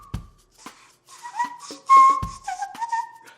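Pucker whistling by one person: several short tonal whistled notes and slides, fairly close and clear, with a couple of soft thumps and shuffling between phrases and no talking.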